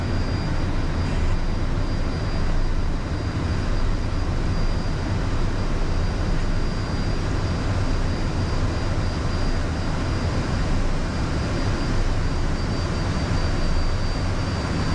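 A Premier business jet rolls for takeoff, its engines producing a loud, steady broadband roar with a thin high whine from inside the cabin, unbroken throughout.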